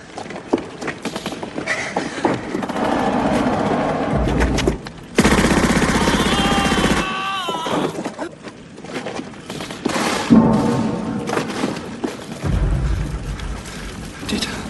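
Bursts of machine gun fire in a Stalingrad war scene, long rattling volleys broken by short pauses, loud and close with a mechanical clatter of the weapon and no clear speech.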